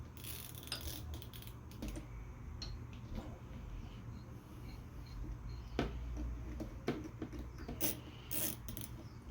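A fuel line fitting on a 1978 Yamaha YZ400 two-stroke gets tightened, faint close metallic clicks and ratcheting taps scattered irregularly over a quiet background.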